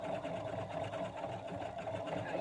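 An embroidery machine stitches out a design with a steady, even mechanical hum and rapid needle chatter, fairly quiet and continuous, with no voices.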